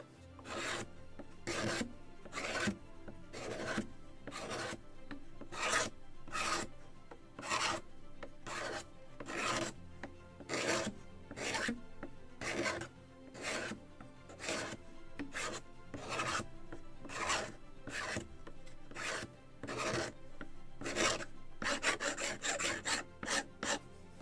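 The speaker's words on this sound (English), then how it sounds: "Sometimes the fibers tells you to scrape it in opposite direction." A wooden yard for a 1776 gunboat model kit is scraped along its length, giving loud, rhythmic rasping strokes about one per second that speed into a quick flurry at the end, with no talking.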